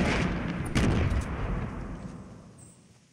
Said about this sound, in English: let's just throw grenades.